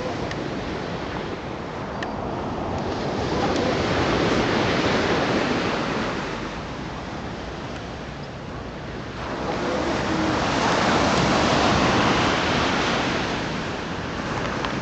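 Surf rolls onto a beach in Spain in two long, loud swells of broadband wash, rising and receding over about fifteen seconds with steady wind noise and no voices.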